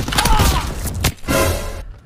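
Video game gunfire at close range, a loud, dense burst of shots and thuds that fills the moment and cuts off abruptly, with voices mixed in.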